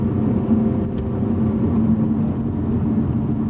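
A 2018 Lotus Evora 400 engine drones at high revs near the fuel cutoff, a continuous loud roar heard from inside the car with steady road noise and no speech.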